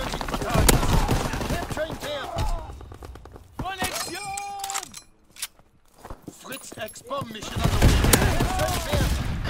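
Rapid gunfire and scattered impacts from a Call of Duty WWII multiplayer match crackle close and loud in bursts, mixed with game effects and a voice talking over the action.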